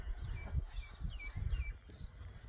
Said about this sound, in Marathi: कोकिळाचा आवाज येते